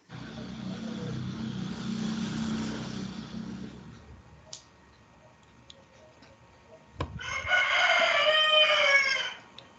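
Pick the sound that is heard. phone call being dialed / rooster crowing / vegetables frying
rooster crowing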